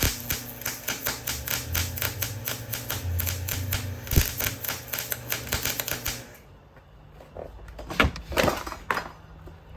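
Steady rapid buzzing pulses from welding go-kart fender mounts run for about six seconds, then stop, followed by a few clanks and knocks of metal being handled.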